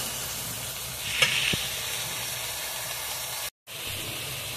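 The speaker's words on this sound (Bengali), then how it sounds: "লবণ, সামান্য হলুদ, কাঁচামরিচ বাটা ডাঁটার সঙ্গে এখন ভালোভাবে কষিয়ে নেব।" Pumpkin stalks frying and being stirred with salt, a little turmeric and green chili paste, giving a steady close sizzle and hiss with one brief dropout and no voices.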